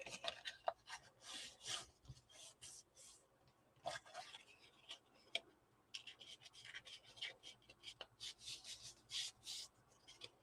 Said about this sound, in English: now I'm going to fold on my score lines and burnish